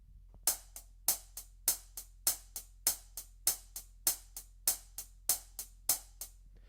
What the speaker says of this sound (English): every other time we hit it, we're going to hit it a little softer.